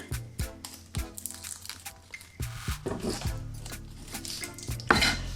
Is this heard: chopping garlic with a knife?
yes